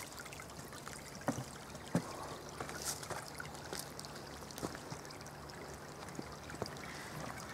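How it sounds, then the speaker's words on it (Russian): A small stream tumbles under and beside a little footbridge in a grove, giving a soft, steady trickle and gurgle with occasional small splashes. The sound is faint and without voices. "Вода перекатывается под и рядом с мостом и течет в ту сторону."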